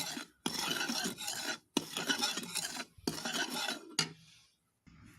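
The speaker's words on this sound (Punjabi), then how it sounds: "ਆਪਾਂ ਨਾਰੀਅਲ ਦਾ ਬਰੂਦਾ ਪੁੰਨਾਂਗੇ" Desiccated coconut is stirred and roasted in a pan, making scraping, rasping bursts of the spoon against the metal that come close and loud, separated by short silent gaps.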